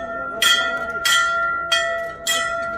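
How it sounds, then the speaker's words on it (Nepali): A bell is rung by hand at Ghantaghar during a crowded protest gathering, giving four bright, ringing strikes at a steady rhythm, each tone lingering into the next. "मैले सबभन्दा बढी घण्टी बजाउँछु।"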